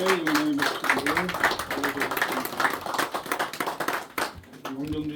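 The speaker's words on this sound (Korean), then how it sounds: "우리 하나님께 영광의 박수를" A church congregation claps during a Sunday morning worship service, steady hand claps running throughout under a singing or speaking voice that carries tonal lines at the start and end.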